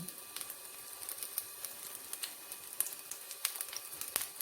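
Thai fish cakes made from silver barb fry quietly over low heat in a pan with a little oil, a faint, continuous sizzle sprinkled with small crackles and pops, close up with no voices.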